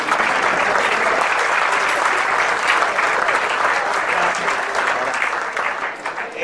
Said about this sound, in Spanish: Aplauso fuerte, por favor.